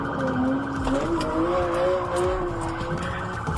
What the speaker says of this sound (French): La voiture a de nouveau dérapé.